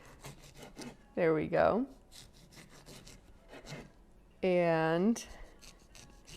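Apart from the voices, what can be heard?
serrated knife cutting a lemon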